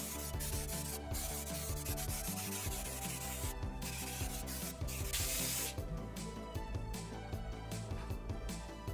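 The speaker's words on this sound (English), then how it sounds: "A little bit of a brake cleaner." Brake cleaner hisses in a steady, loud spray onto the rusty differential of a 20-year-old BMW 750i, close up and continuous with rubbing, scraping texture throughout.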